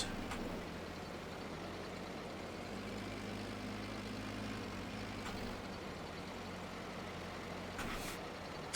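A Massey Ferguson tractor in Farming Simulator 22 drones steadily while towing, a constant rumbling engine hum with a few brief hissing bursts and no speech.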